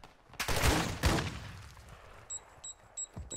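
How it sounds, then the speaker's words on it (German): Gunfire in Call of Duty: Warzone 2.0 cracks out in two loud, close bursts of rapid shots, followed by faint short electronic beeps repeating in the background. "Wer schießt denn da noch?"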